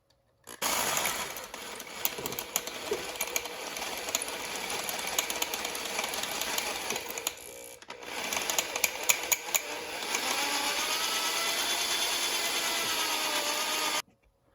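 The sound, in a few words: drilling out bolts with left-hand bits on Honda CB900F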